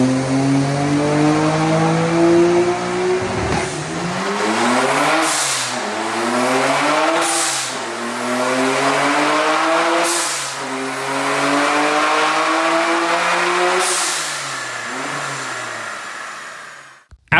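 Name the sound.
Nissan R33 GT-R engine revving on dyno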